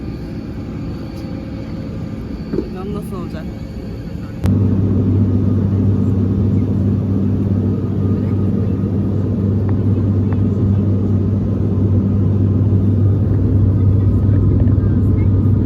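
A propeller airplane cabin fills with a steady, loud low rumble and droning hum that jumps louder a few seconds in as the engines power up, with brief talk near the start.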